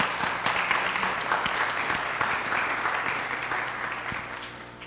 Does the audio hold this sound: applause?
yes